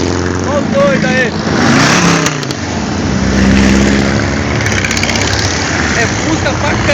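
Several Volkswagen Beetles idle and rev nearby, a loud, rough engine rumble that swells and eases, with people's voices mixed in over the motors.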